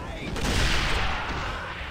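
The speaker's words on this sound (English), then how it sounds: "I hear a cannon" A heavy booming blast of cannon fire in the video game Armed & Dangerous rolls and rumbles loudly, filling the whole moment with dense explosive noise.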